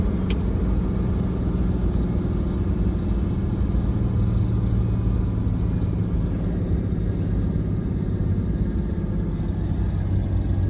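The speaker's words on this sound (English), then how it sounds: "I'm going to hit the exhaust brake now." A 6.7 Cummins diesel truck engine rumbles steadily with a deep, continuous low drone with the exhaust brake engaged, holding even in loudness throughout.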